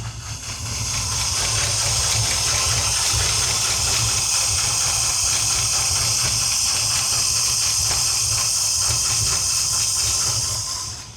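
A 1970 Chevy C20 truck engine idles steadily after starting, a loud continuous rumble with a hissy edge that holds for several seconds and then stops, with no talking.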